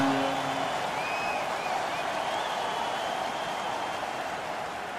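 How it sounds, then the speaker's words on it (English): Ice hockey arena crowd during a New York Rangers at Columbus Blue Jackets game cheers after a reviewed goal, a distant, faint wash of roaring and applause that fades slightly. "It's now a good one, and the whole crowd is ecstatic."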